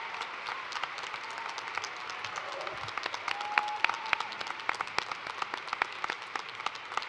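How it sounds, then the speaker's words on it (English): An audience at a college of nursing convocation ceremony applauds with dense, continuous clapping. Some sharper individual claps stand out in a large hall, and the applause holds at a steady level. "Please join me in a round of applause to acknowledge their impressive achievement."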